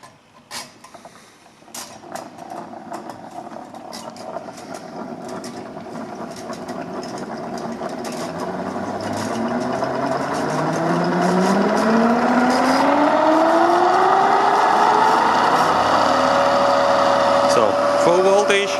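Shunt- or series-wound DC motor starting under rising applied voltage, whining upward in pitch as it speeds up from quiet to a loud steady hum, with clicks early on.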